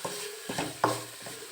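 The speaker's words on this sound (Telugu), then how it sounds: "అది కొంచెం వేసి కలిపేస్తామండి" A spoon stirs spice into food frying in a pan, making a few short scraping strokes over a soft sizzle, close and brief.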